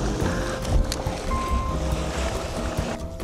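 Choppy lake waves with steep triangular peaks slap and splash against a small fishing boat in rough conditions, close and fairly loud, with wind noise and irregular hull knocks throughout.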